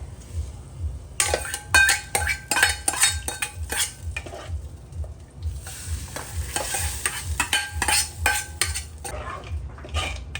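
Tempering for chutney crackling in a pan in a home kitchen, bursts of sharp sizzling pops mixed with metal spoon stirring and clinks, uneven and close, over a low steady background hum.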